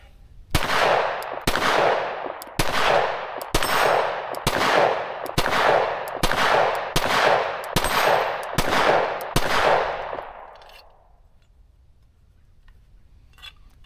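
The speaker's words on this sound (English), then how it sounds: "So let's go back to shooting here." A Sig Sauer P365 AXG Legion pistol fires about ten sharp, loud shots at a steady, fairly quick pace, each with a short ringing decay, then the shooting stops and quiet follows.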